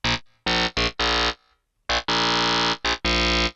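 A single-oscillator FM synthesizer patch plays a rhythmic run of loud, bright, buzzy staccato notes of varying length, separated by short gaps, with nothing else in the mix.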